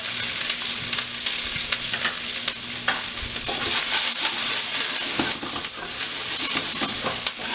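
Thin snow peas and garlic stir-frying in oil in a very hot pan for a basic veggie stir fry, a loud, constant close sizzle with frequent crackles and scraping tosses, no voices.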